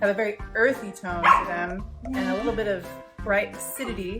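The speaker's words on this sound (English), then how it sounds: "Pardon the dog noise in the background." A dog barks and yips in the background of a home kitchen, its sharp calls mixing with a man's close, continuous talking.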